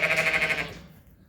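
One sheep, a ewe with lambs on a farm, gives a single wavering bleat. It is clear and fairly close, then fades out within about a second.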